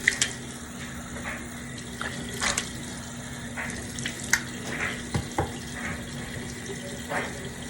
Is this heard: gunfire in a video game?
no